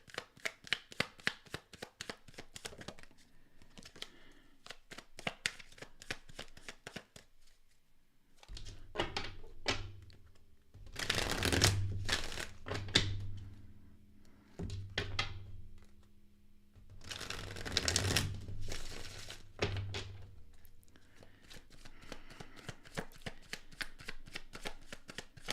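A deck of tarot cards is handled at close range: quick riffling shuffles, then pauses and thick bursts of cards being cut and bridged, each run of slaps lasting a second or two, with no talking.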